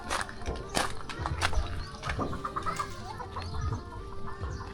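Chickens cluck repeatedly at close range amid farmyard bustle, with scattered footsteps and faint background voices.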